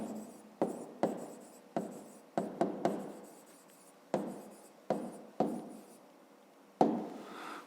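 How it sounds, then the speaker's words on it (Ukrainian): A pen writes an answer to a fifth-grade maths exercise on paper, soft close scratching strokes in short bursts separated by brief pauses, with no speech. "Записуємо тоді відповідь, пишемо відповідь."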